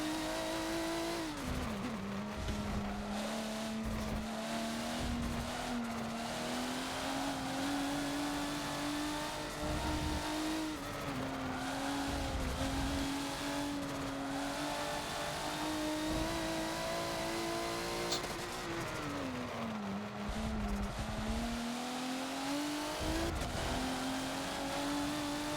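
Race car engine droning through an out lap of Virginia International Raceway's Grand West course in Forza, sustained close engine note rising through gears with dips on downshifts and braking, no voices.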